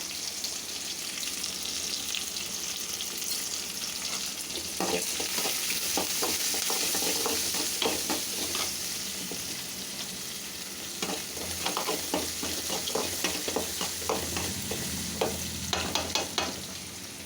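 Bamboo shoots sauté in a pan with turmeric and rock salt, a steady sizzle broken by repeated scraping stirs that grow busier toward the end, with no voices.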